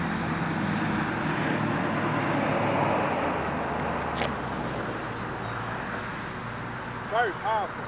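FPV Adventurer V.5 RC airplane climbing at half throttle, its electric motor giving a steady broad whir that stays fairly even throughout, with wind noise and brief voices near the end.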